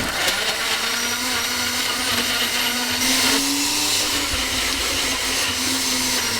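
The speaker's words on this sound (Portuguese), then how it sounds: "Espero que o meu liquidificador dê conta, porque tem uns morangos bem grandes aqui" A kitchen blender chops large strawberries with a loud, steady motor whine, the pitch dipping slightly as the fruit loads the blades, running alone throughout.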